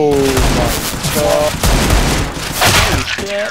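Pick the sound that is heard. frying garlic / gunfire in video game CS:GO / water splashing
gunfire in video game CS:GO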